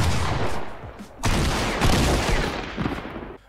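Pump shotgun fire in the video game Fortnite: loud, close, booming blasts with long noisy tails that merge into a dense roar, then cut off abruptly.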